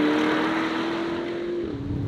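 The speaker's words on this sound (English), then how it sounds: "it is proper gruff V8 noise, and it's making that noise inside the cabin here and outside as well" A 2023 Porsche Cayenne V8 engine gives off a gruff, steady drone heard from inside the cabin, holding a sustained tone that dips slightly near the end, with no voices over it.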